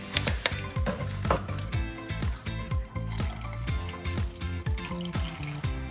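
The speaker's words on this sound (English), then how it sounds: "you pour your water in. And you just keep pouring until you have the grape leaves submerged" Water pours steadily into a cooking pot of Lebanese stuffed grape leaves, a continuous splashing fill with rhythmic gurgling pulses, close and fairly loud, no voices.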